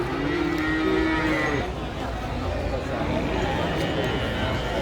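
Cattle lowing at a busy cattle market, a long drawn-out moo up front over a constant murmur of crowd noise and background chatter, with people talking throughout.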